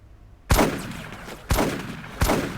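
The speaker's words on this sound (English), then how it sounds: "They've got a nice little MG42 there." Three loud, sharp gunshots from an MG42 machine gun in the World War II game Combat Mission: Afrika Korps, spaced about a second apart, each followed by a decaying echo.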